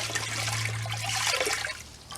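Water is poured into a toilet bowl to refill it after the supply is shut off: a steady, close splashing rush over a low electrical hum, easing off toward the end.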